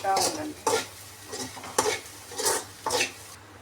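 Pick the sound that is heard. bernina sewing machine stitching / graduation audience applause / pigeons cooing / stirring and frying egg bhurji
stirring and frying egg bhurji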